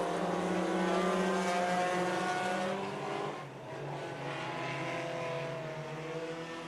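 Race cars roar around a quarter-mile oval track during a Friday night feature race, engines loud and continuous as they battle for the lead down the back straightaway, with a slight dip and swell as they pass.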